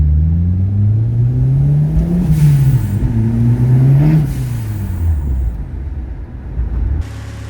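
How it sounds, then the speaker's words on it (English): A 1988 Ford Escort RS Turbo engine, freshly fitted with a new fuel ECU, runs loud and close, its tone rising and falling through several revs before settling back to a steady idle. "The car's running like absolute new."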